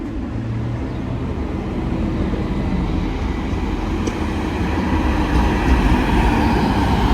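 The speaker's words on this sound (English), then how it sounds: "Train now arriving in is a 185" A Class 185 train bound for Leeds pulls into Dewsbury station, a steady broad rumble of engine and wheels that swells slightly as it nears, with no voices.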